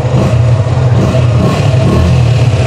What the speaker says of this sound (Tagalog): I-rev natin konti.